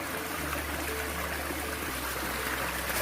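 A mountain valley stream flowing in Jeongseon, Gangwon, South Korea, a steady close rush and trickle of water filling the whole moment without voices.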